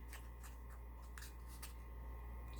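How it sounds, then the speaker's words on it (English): Scissors snip through paper being trimmed for a Dollar Tree notepad cover, giving several quiet, short cuts in an uneven rhythm, close and faint against a low steady hum. "kind of figure out where to cut it, like right there, and just cut it right across."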